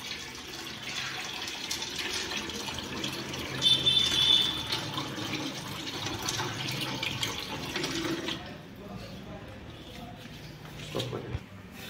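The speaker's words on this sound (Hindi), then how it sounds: "ये हम इसमें पानी ऐड कर रहे हैं" Water pours and splashes steadily into an aquarium for several seconds, then stops, leaving a few faint drips and small knocks.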